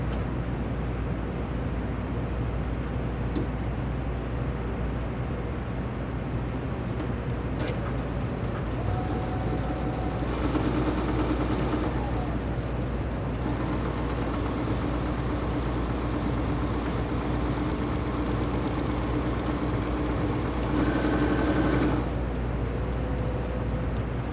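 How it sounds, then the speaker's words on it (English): A sewing machine with a Teflon presser foot stitches fabric for a simple pencil pouch, giving a steady low mechanical hum and whir throughout, with brief higher-pitched motor surges in the middle and near the end. "since we have that Teflon foot, it's given us a really nice glide through the machine so we can see where all of our stitches are going"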